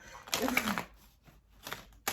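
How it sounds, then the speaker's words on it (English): A deck of large, tall tarot cards is shuffled in two short riffling bursts, crisp papery flutters close to the microphone with a brief pause between them. "I feel like some of you want me to shuffle now, so I will."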